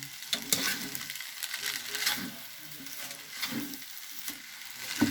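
Japanese instant noodles with pork and egg being stir-fried in an oily pan, giving a steady close sizzle with repeated scraping stirs throughout.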